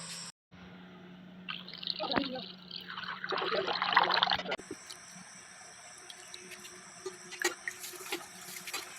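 Pieces of paneer are rinsed in water in a home kitchen, with splashing and running water for a few seconds, then softer drips and handling sounds at moderate loudness.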